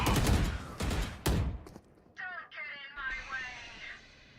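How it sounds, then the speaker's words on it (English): Rapid bursts of gunfire from the video game Valorant, heard during a competitive esports match, crackle loudly in quick succession, then give way to thinner, warbling ability effects. "Certainly no question about what's on the other side, given the eruption of gunfire."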